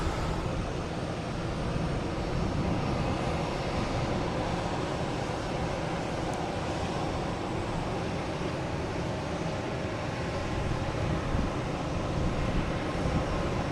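Airliners taking off at Logan Airport into the sun give a steady, broad engine roar that holds loud and even throughout, with no voices.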